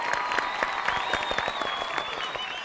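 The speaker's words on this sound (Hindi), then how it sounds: "अरे जरा जोरदार तालियां।" A crowd bursts into applause during a comedy skit, bright overlapping claps that continue steadily at moderate volume from start to finish with no talking.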